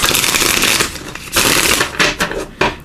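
Oracle cards are shuffled close up in quick riffling bursts, a crisp papery flutter repeated several times with short pauses.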